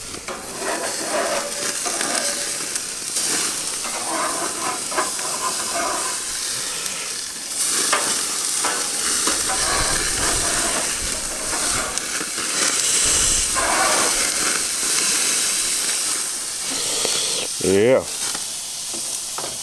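Steak sizzles on a Monument Grills Mesa 405k gas grill, a steady close hiss and crackle with intermittent bursts and a brief scrape near the end, under a short spoken remark.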